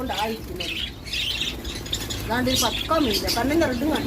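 Finches squawk and chirp in short bursts close by, several calls overlapping, while people talk over them.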